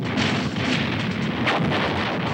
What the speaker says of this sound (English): The naval barrage began, blasting the landing area and its approaches.